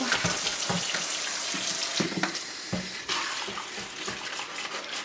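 Tap water runs in a steady hissing stream, splashing into a sink while rinsing juicer pulp from a Breville juicer, with a few clattering knocks, no voices.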